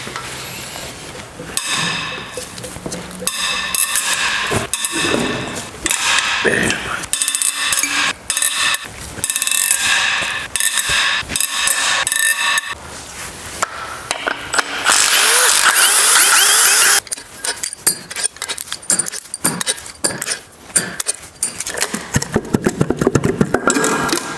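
A ratchet clicks in quick bursts while a cylinder head comes off a Toyota engine, mixed with clanks of tools and metal parts being handled close by, with short pauses between spells of work.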